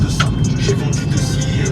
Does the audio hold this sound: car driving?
yes